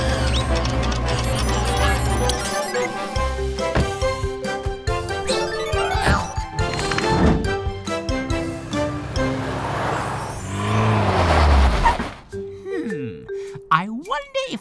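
Tilly Tow Truck from the Gecko's Garage cartoon drives off amid bright cartoon music and jingles, a rising engine whir swelling toward the end before cutting to quick sliding sound effects.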